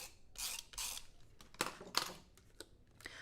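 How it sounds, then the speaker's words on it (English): A tape runner rolls adhesive onto a card base in a few short, close scratchy strokes, followed by light clicks and rustling handling of paper at low volume. "Let's go ahead and adhere this then onto a sugar cube card base. Do that with my tape runner."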